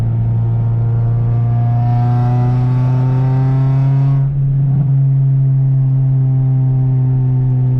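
An Acura RSX with bolt-on upgrades holds a loud, buzzy high rev close up, its steady drone climbing slightly before a brief dip and recovery.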